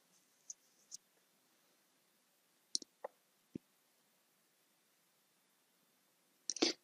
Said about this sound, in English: I'm going to click Create This Policy.